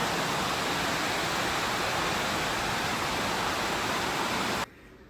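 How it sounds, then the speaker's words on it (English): Heavy rain pours down steadily during a thunderstorm, a dense, loud hiss of falling water with no break until it cuts off abruptly near the end. "It is pouring down."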